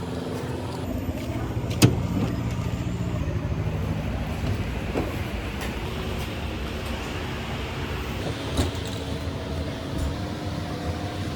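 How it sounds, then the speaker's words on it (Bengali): A steady rumbling drone inside a moving long-distance Indian train bound for Kerala, in a nearly empty carriage, with a broad constant hiss, occasional soft clunks, and no talking. "ট্রেন"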